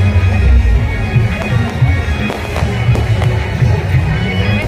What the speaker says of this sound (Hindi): देखो अभी आतिशबाजी शुरू हो चुके हैं